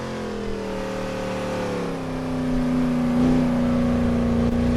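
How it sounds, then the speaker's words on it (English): 1994 BMW E38 sedan with 320 horsepower accelerating on a lap, its engine note rising steadily in pitch and loudness, heard close and alone with no talk. "driving this 1994 BMW E38 without even a helmet"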